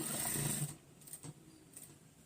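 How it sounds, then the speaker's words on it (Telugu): A sewing machine stitches a pant belt pocket in a short, close burst of whirring that stops after about half a second, followed by faint handling clicks. "తర్వాత ఇక్కడ దాకా మిషన్ ఇలా తిప్పి ఈ కింద దానికి లెగవకుండా కుట్టేసుకోవాలి"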